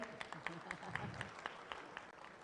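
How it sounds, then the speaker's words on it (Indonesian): Summit audience clapping lightly, scattered individual claps heard faintly at a distance while a voice talks over them. "Tepuk tangan untuk LSM."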